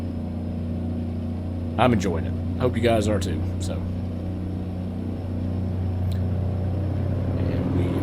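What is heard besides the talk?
truck engine in American Truck Simulator video game, sound mod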